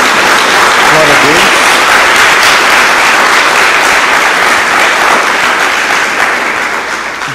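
Church congregation applauding during a service, loud continuous clapping from many hands that holds steady and then tapers slightly near the end, with a voice faintly present early on.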